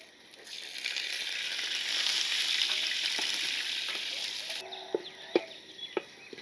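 A tempering of chana dal, urad dal, dried chilli pieces, garlic cloves and curry leaves frying in oil: a broad sizzle swells and then fades, followed by a few sharp clinks and pops near the end.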